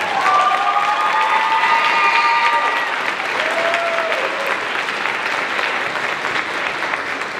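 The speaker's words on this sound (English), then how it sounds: "deserves an extra round of applause for that" Audience applause at a high school band concert, steady and dense clapping filling the room, slightly tapering but continuing throughout with some faint voices underneath.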